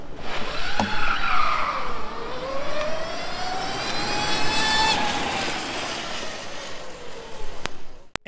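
Formula SAE electric race car with a chain and sprocket drive, passing with a rising and falling high whine over a steady broadband roar, loud throughout and ending in a sharp click.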